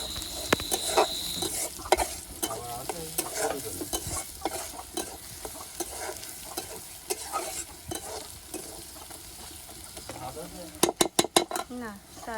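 Onions sizzle steadily in a pan over a clay stove as beresta is prepared for biryani, with frequent stirring scrapes and clinks of utensil against pot, and a few sharp taps near the end.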